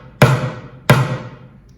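A plastic bucket lying flat is struck in the center twice, two deep, resonant thumps about two-thirds of a second apart, each ringing briefly before fading, close and alone.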